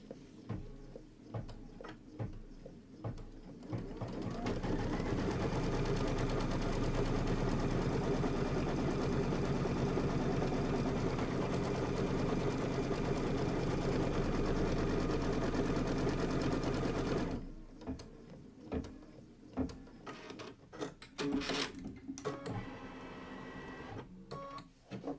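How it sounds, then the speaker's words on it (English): An embroidery sewing machine tacks down an appliqué block, running in a steady, loud, continuous mechanical whir for about thirteen seconds, framed by scattered clicks and clatter before and after. "I'm going to go ahead and tack this down."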